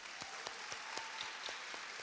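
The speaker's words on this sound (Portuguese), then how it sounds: "Vamos aplaudir o pessoal da mídia?" Steady clapping from an audience, a dense patter of many hands with no voices on top, holding at an even level throughout.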